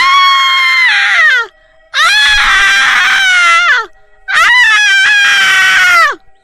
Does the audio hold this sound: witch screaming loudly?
yes